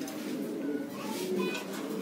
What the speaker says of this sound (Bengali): এই যেগুলো ক্লাবের কবুতর